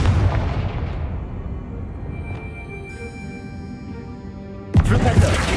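A Confringo fire-blast spell cast in the Hogwarts Legacy video game lands as a loud booming burst that rumbles and decays over several seconds, then a second sharp impact hits near the end.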